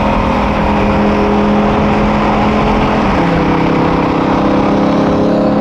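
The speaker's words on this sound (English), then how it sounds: "Bro, the turbo noises is crazy." A twin-turbo Audi R8's engine roars loudly and steadily, its revving tone shifting pitch partway through, with a rough, throaty rumble and turbo noises throughout.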